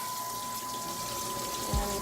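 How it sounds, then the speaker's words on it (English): Cold water runs from a kitchen sink tap in a steady, close hiss of spray and splashing, with a brief low thump near the end. "I'm just gonna let the cold water run"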